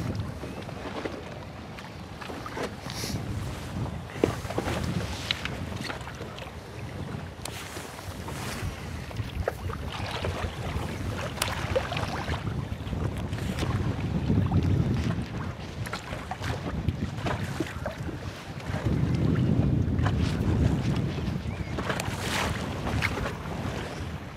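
A small fishing boat with a motor moves across a lake, its steady engine rumble mixed with heavy wind buffeting and water noise throughout, swelling louder at times.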